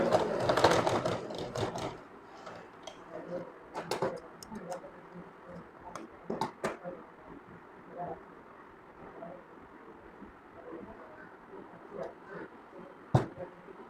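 A sewing machine stitches the collar of a kameez in short, faint bursts of rapid whirring, quiet and close, separated by pauses.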